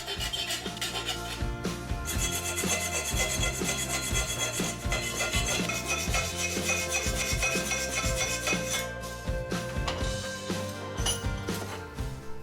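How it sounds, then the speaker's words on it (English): Steady rasping strokes of a hand file on metal, filing down excess metal on a 1971 Bedford CF camper van heater part, repeated rhythmically and close up, with no talking. "I decided to file the excess metal down because it's fun to make that irritating grinding sound"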